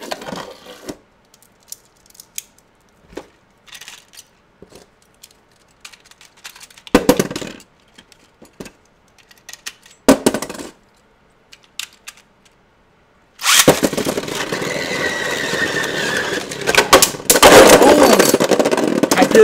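Takara Tomy Beyblade Burst GT tops, Judgement Joker versus Hyperion Burn, click and tap sparsely at first. A sudden loud, sustained rattling clash follows as they battle and burst apart in the stadium.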